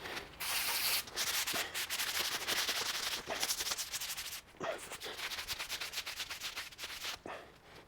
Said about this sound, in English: I'm going to start by degreasing the outside of the tie rod